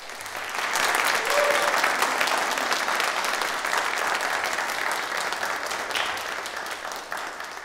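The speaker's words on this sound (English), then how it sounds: "Let's give them a round of applause." A church congregation gives graduates a round of applause, many hands clapping in a full, steady roar that swells quickly, holds for several seconds, then gradually thins out.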